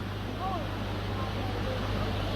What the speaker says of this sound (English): We're almost at the waterfall.